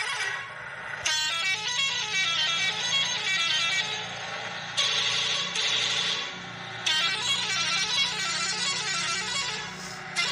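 Bus horn in Bus Simulator Indonesia, sounding as a loud, sustained musical horn melody with rapid repeating tonal patterns, cutting in and out in three long bursts with brief breaks between them.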